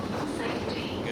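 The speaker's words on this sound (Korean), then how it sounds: "쿠란다 기차는 알록달록한 기관차에 15칸의 객차로 이루어져 있는데 객차가 목재로 만들어져 기차의 역사를 짐작할 수" A Kuranda Scenic Railway train, a colourful locomotive hauling fifteen wooden carriages through rainforest from Cairns, rumbles in a steady, dense roar with a faint rhythmic clatter, while a voice speaks over it.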